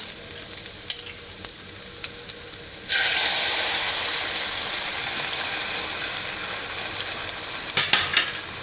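Egg scrambled with drumstick in a pan over a very low flame, a faint hiss that grows into a steady loud sizzle partway through, with a couple of light spatula scrapes near the end.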